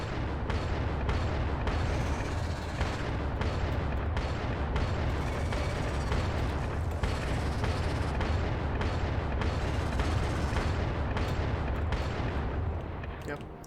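Gun turrets in the game Factorio pour rapid, continuous fire at tough big snapper enemies, a dense loud rattle of shots and impacts that keeps going without a break.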